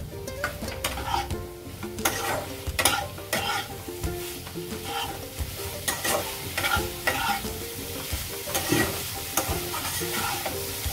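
Spice paste with roasted cumin powder stirred and fried in a pan for a fish curry, a steady sizzle with repeated scraping strokes of a spatula against the pan, close and loud, no talk.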